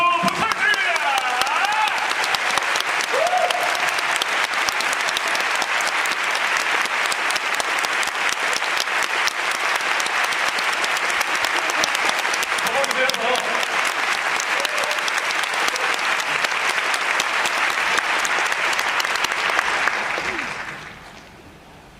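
Large theatre audience applauding at a curtain call after a classical music concert with orchestra, sustained dense clapping filling the hall for about twenty seconds before fading out, with voices faintly mixed in.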